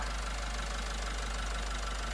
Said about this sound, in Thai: เครื่องยนต์นิ่งๆครับ ไม่สั่นไม่คลอน